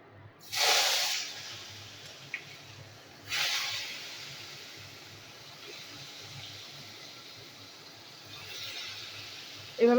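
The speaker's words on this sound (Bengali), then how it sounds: "আমি এখন বেগুনগুলো ভেজে নিই।" Eggplant pieces salted and rubbed with turmeric drop into hot oil in two sharp hissing bursts, each settling into a softer steady sizzle, with a final surge of hiss at the end.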